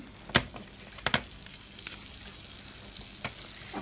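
Butter sizzles softly in a pan, a low steady hiss broken by a few sharp clicks and taps of a utensil at irregular intervals.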